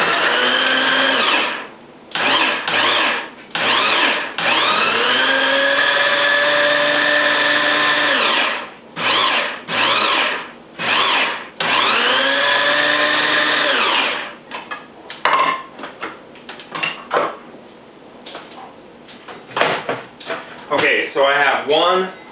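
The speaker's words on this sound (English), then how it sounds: "I've chopped it up in the food processor" A food processor chops a large fennel bulb in loud, close motor bursts: long runs and short pulses start and stop repeatedly, followed by choppier, rattling spurts near the end.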